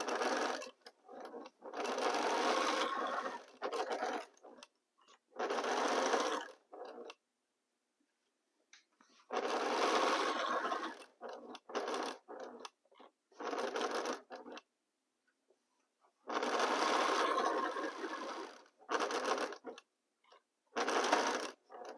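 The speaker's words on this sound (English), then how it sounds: "Now I go to the machine again and join them 1/4 inch seam allowance." A sewing machine joins quilt pieces with a quarter-inch seam, running in several steady bursts of stitching separated by quiet pauses, close and clear with no talking.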